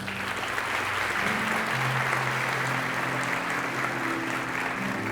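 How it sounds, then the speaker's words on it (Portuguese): A church congregation claps for Jesus during a sermon, producing a steady, full roar of applause that holds evenly throughout, with a low sustained tone underneath. "Você pode aplaudir Jesus?"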